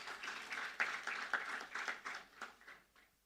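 A round of applause from the audience at a distinguished alumni lecture, moderately distant and fairly faint, with irregular clap bursts that thin out and fade over about three seconds.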